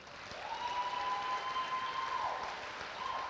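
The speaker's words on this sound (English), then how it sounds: "A big round of applause for our programmers" Audience applause fills a theatre at a film festival friends-and-family preview night, a steady wash of clapping with a long sustained whistle riding over it.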